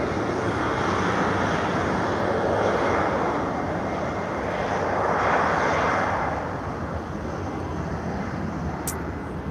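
An Embraer airliner at Lisbon Airport, heard as a steady, loud broadband engine roar that swells and fades gently across the whole stretch, with a brief sharp tick near the end and no voices.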